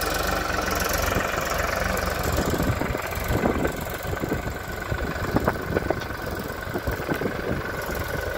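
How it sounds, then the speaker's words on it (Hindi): A new Powertrac Euro 50 tractor fitted with a new plough runs in low third gear, its diesel engine giving a steady, loud knocking rumble with irregular clatter, close by and without speech. "आवाज़ भी चेक कर लो ट्रैक्टर की, इस तरह की आवाज़ आ रही है।"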